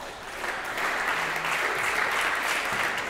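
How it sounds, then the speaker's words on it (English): Crowd applause ringing out at a squash and racketball club after a rally, steady sustained clapping from many spectators filling the court hall for about three seconds. "It's a good crowd clapping that rally, actually."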